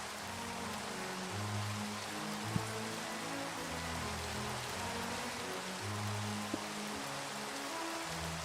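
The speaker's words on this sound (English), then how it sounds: "the rain sound is from where it hits the ground has always been like that" Steady rain hitting the ground in Minecraft, a dense even hiss of drops with a few brief louder ticks, continuous and close throughout with no talking.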